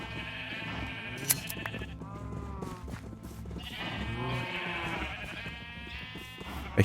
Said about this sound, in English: shearing these sheep.